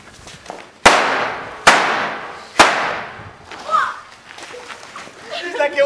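Three sharp firecracker bangs go off in quick succession, loud and close, followed by excited voices shouting in the background.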